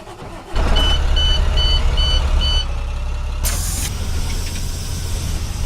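An air-brake school bus starts up in the Rigs of Rods video game. The engine catches and settles into a loud, low idle rumble, with a run of electronic warning beeps and a brief burst of hiss partway through.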